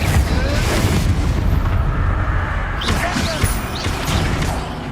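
A Confringo fire spell blast in the video game Hogwarts Legacy, a loud rumbling boom that sustains through a dense, noisy battle mix, with a voice shouting briefly over the action.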